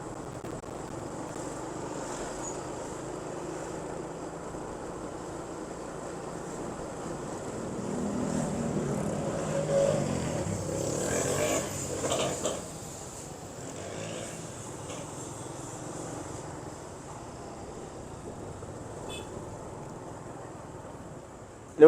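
Motorcycle riding along an airport perimeter road while the engine warms up, a steady low engine drone mixed with wind buffeting the microphone, swelling briefly midway, with no talk.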